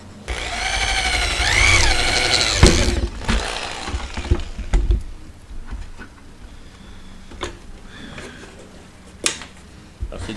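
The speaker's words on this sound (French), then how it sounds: "une perceuse, je vais percer des trous." A power drill bores holes into a desk in short, uneven bursts, starting with a loud whining spin-up that pitches up and down, then scattered grinding and clicking contacts; no one talks.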